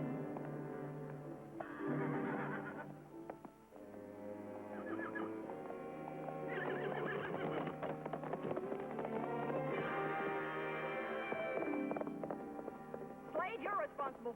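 In a 1950 Western, a horse whinnies repeatedly and its hoofbeats run off over a busy mix of voices and background noise, at moderate volume.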